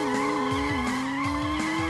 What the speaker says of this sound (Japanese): 最後にちょろっと悪魔のエンジンの加速力を見てみましょう